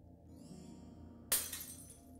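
A magical barrier shatters like glass: a sudden bright crash of breaking, tinkling shards that rings out and slowly fades over a low sustained hum, with no talking.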